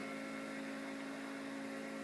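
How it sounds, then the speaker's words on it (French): A car engine in a video game drones at a steady pitch, a constant humming tone held the whole time with no voices. "Je sais pas si vous entendez le moteur, mais ça claque hein."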